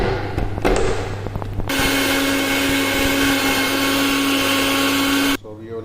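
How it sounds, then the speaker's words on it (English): A kitchen blender grinds tomatoes into puree for an Indian bottle gourd curry, a loud, steady high whirring motor that runs for several seconds after a few short pulses, then cuts off abruptly. "now we have to grind our this tomato to make our tomato puri"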